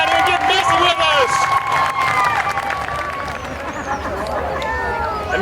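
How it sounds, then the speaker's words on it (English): An outdoor crowd at a 2011 Independence Day watermelon eating contest in Clarksville cheers and claps for the adult contestants, with steady applause and whoops under a loud announcer's voice and scattered shouts. "Crowd, give these adults a big round of applause for getting down here and getting messy with us"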